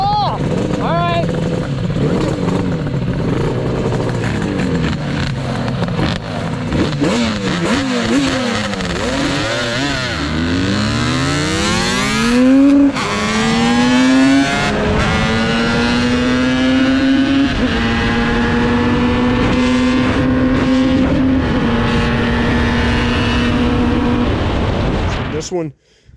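Yamaha RD400 Daytona motorcycles rev hard in a drag race, their engine pitch sweeping up and down in loud, rising and falling whines before settling into a steady high drone and cutting off at the end.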